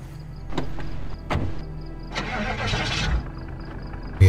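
Car engine cranking and starting in the survival game Project Zomboid, a short whirring crank followed by the engine catching and running at idle, fairly close, with brief mechanical clunks earlier and no talk.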